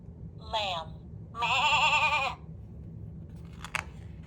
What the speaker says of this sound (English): The lamb is a baby sheep.